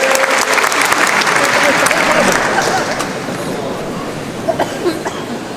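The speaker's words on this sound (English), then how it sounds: "Give yourselves a round of applause and take a seat." Audience in Brisbane Town Hall giving themselves a round of applause, a dense burst of clapping that thins out and fades over a few seconds amid crowd murmur.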